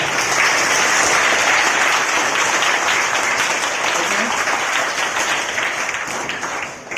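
An audience claps loudly at a school National Sports Day event at a high school in Konkuduru. The steady, dense applause fills the whole stretch and tapers slightly at the end.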